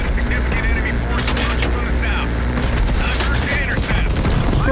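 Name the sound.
gunfire in Call of Duty Black Ops Cold War video game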